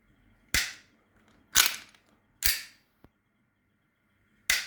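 VFC Glock 19X airsoft pistol fires four sharp, snappy shots, three in quick succession and one after a short pause, close and loud over a quiet background.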